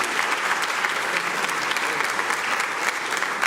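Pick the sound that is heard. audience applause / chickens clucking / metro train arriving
audience applause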